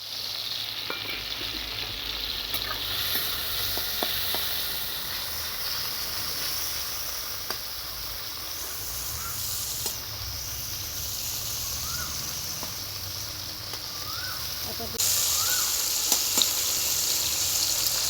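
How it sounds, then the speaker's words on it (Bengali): Prawns sizzle steadily in hot oil in a wok, a continuous dense frying hiss with occasional stirring scrapes and a louder burst of sizzle near the end. "এরপর চিংড়ি মাছগুলো হালকা করে ভেজে নেব।"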